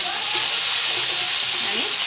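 Onion and tomato fry in a pan with a loud, close, unbroken sizzle and hiss, and faint stirring underneath.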